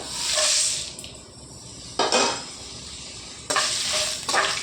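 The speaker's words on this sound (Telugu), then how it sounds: "మినపప్పు కొద్దిగా వేగాలండి చూడండి మినపప్పు కొద్దిగా వేగాయండి ఎండు మిరపకాయలు వేసుకుందామండి" Urad dal and dried red chillies fry in hot oil in a pan, a loud close sizzle that flares in sharp bursts as items are stirred or added, easing to a softer hiss between them.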